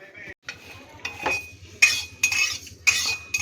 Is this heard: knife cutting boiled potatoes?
yes